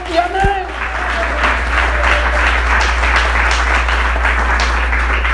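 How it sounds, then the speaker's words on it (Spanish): Congregation clapping during a Christian church sermon, a dense steady wash of applause sustained throughout, with a low hum underneath and a brief voice at the start. "Si vas a aplaudir, aplaude en el nombre del Señor."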